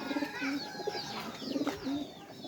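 Pigeons coo in soft, low repeated phrases, several calls in a row, close by with faint background chirps.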